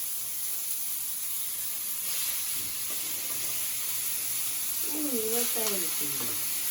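Oil frying and sizzling in a wok, a continuous hiss with light stirring, and a faint voice briefly in the background, while cooking sea prawns.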